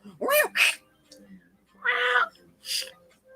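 A cat meowing loudly and close by during a live stream, three separate drawn-out meows with short pauses between them, plus a faint background murmur.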